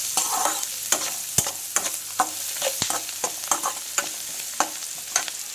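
Onions sizzle and fry with turmeric and salt in a pan, a steady hiss broken by regular stirring scrapes and clacks of a spoon against the pan, close and moderately loud with no talking.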